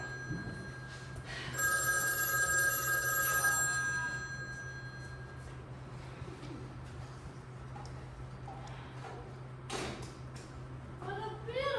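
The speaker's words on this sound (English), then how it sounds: "This number's not getting ruined by another ringing telephone." A telephone rings in a musical stage performance of The Drowsy Chaperone, its bright electronic trill standing out loudly for a few seconds before fading into room noise and faint voices.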